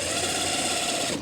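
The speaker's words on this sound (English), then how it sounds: "I'm going to just drill a few more holes in here" A power drill drills into a solid-state rack battery cell with a steady, high-pitched motorized whir, running continuously at close range, then cutting off at the end.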